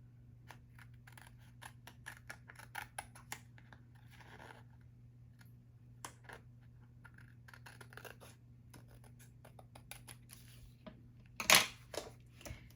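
Scissors snip through material on both sides, a soft scratchy cutting that ends in a sharper cluster of louder snips, with a steady low hum underneath and no voices.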